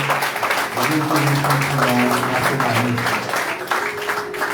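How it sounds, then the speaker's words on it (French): A church congregation in Caradeux, Haiti, applauding together during an evangelical service, a steady dense wash of clapping mixed with voices and sustained tones, continuous and fairly loud. "nous demandons pour capable faire un bel applaudissement"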